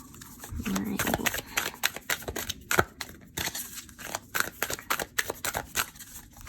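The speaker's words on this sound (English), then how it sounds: "let me just keep shuffling" Tarot cards are shuffled by hand in quick, uneven bursts of crisp riffling and slapping, close to the microphone.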